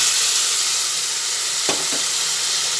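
Eggplant korma sizzling steadily in hot oil as sour yogurt goes in, a constant broadband hiss with a couple of brief louder spits and stirring scrapes near the end.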